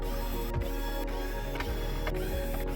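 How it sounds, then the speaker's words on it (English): Screws being unscrewed from the mainboard of a Sony OLED XR-65A95K TV with a ratcheting driver, repeated close mechanical clicks and whirs roughly every half second over a steady hum. "All that's left to do is remove these 8 screws to free the mainboard."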